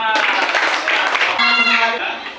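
A class claps on cue in an Indonesian classroom lesson, scattered hands rattling quickly at first before voices rise and carry on over the fading clapping.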